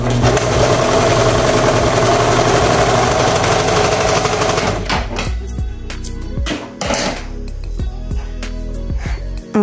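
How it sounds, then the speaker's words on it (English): A serger sewing machine runs steadily while stitching the shoulder seams of a baby romper, a loud continuous mechanical whir for about five seconds that then breaks into short bursts and stops with clicks and knocks. "So I'm just gonna go ahead and serge these two shoulder seams together."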